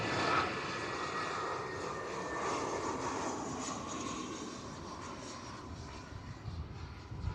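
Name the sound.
EasyJet Airbus A320 arriving from Paris Charles de Gaulle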